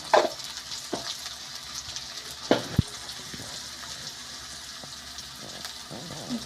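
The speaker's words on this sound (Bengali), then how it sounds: "লঙ্কাটাকে একটু ভেজে নিতে" Chili with turmeric and cumin powders frying in a pan for chowmein sizzles steadily and close, with a few sharp clinks and scrapes of stirring scattered through and no talking.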